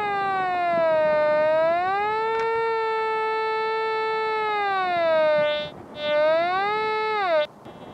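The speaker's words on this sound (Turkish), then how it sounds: "Hedefin merkezine yaklaşırken sinyal sesi güçlenip değişir." A Fors Gold metal detector emits a continuous electronic signal tone that bends and swells in pitch as it nears a target, with a couple of brief dips near the end, loud and alone.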